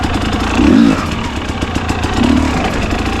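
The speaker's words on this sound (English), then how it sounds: "So one thing to get good at is the little pop clutches." An enduro motorcycle doing small pop-clutch lifts on off-road terrain gives two short, loud engine bursts, one near the start and one later, over steady idling and rattling.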